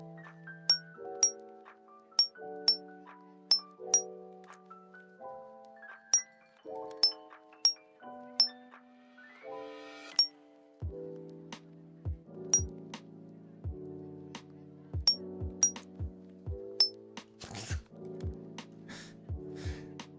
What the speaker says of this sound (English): where every time they blink, it makes a sound.